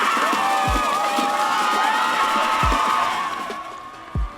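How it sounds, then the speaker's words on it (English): The Ware County student section cheers at a high school football game, with a loud, sustained roar of young voices shouting and whooping, a few low thumps mixed in, and the crowd fading toward the end. "Say hey to the Ware County student section. Loud and proud."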